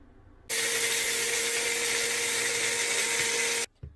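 An electric grinder whirs loudly and steadily for about three seconds, grinding roasted spices into Andhra-style podi powder, then cuts off abruptly.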